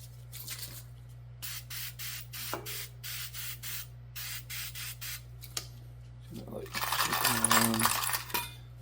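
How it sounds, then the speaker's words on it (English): Rust remover sprays in short hissing bursts onto small brake reach adjustment screws in a stainless steel bowl, close up, followed by a louder rattling clatter of the parts. "spray the parts."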